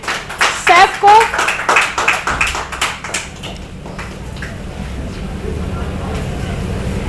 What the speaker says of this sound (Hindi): तो एक बार जोरदार तालियां हमारे टॉप 3 बुंदेली शेफ को।